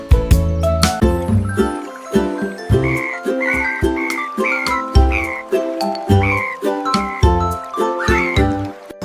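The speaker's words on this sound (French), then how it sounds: "les grenouilles ont commencé à chanter des mélodies" Tuneful croaks and chirps repeat in a steady rhythm over a chiming, melodic backing, bright and close throughout.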